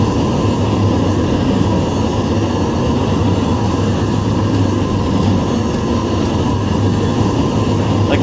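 A train driven in the Roblox game Trainware rumbles along with a steady low engine drone and faint rail hum, constant and fairly loud, with no talking.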